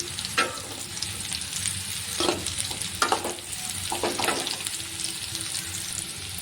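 Bitter gourd pieces frying slowly in oil in a pan over low flame, a continuous close sizzle with intermittent stirring scrapes and clinks.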